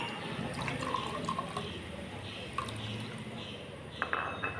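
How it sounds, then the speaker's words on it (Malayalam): Water is poured to make lemon juice, giving a steady, moderately quiet splashing stream with a few faint clinks and drips near the end. "ആദ്യം നമ്മൾ വെള്ളം ഒഴിക്കാം"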